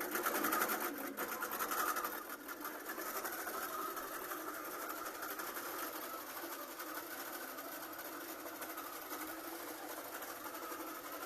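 A quilting sewing machine stitches a row in a continuous fast, even mechanical whir and rattle, louder and busier at the start and then steady throughout, with no voices.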